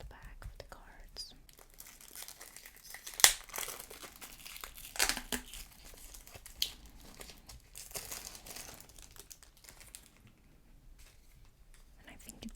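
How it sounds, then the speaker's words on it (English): A foil pack of World of Warcraft trading cards from a Wrath of the Lich King collector's edition is torn open up close, giving soft crinkling and tearing with a few sharper rips, under quiet whispered talk. "I think it's so hard to open packs without damaging them"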